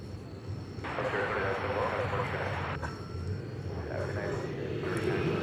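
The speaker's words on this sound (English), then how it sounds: "the Lufthansa flight was about to arrive" A Lufthansa jet arriving at DFW Airport roars steadily in the distance, a broad sustained engine rumble with talk heard over it.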